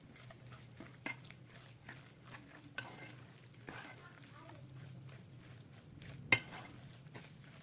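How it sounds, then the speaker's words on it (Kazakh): Flour mixture for pizza dough being stirred in a bowl, making soft, irregular scraping strokes that stay quiet and close, with a low background hum and a louder clatter near the end. "Осыны жақсылап араластырамыз."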